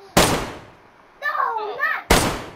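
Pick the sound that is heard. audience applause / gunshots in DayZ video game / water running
gunshots in DayZ video game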